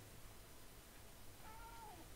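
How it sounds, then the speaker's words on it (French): A pet cat gives one short, faint meow near the end, wanting to go outside, heard against a steady hiss of background noise in an indoor room. "Mon chat, qu'est-ce qui t'arrive?"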